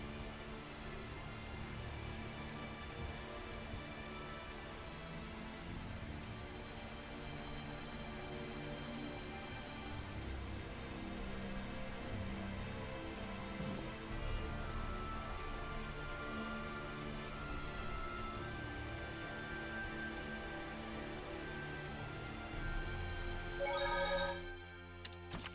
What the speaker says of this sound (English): I do like the rain sound effect, though.